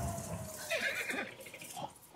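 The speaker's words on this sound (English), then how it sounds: "Follow the horse." A horse neighs in The Last of Us 2, a loud whinny rising in the middle of the clip over a busy game background with ambient noise.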